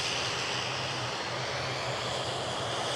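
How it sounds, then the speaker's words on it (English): An Airbus A350-900 jet departing from Edinburgh Airport for Paris Charles de Gaulle gives a steady, broad engine roar with a low rumbling hum, loud and continuous throughout without pause. "So the aircraft next to go is off to Paris Charles de Gaulle, A350-900."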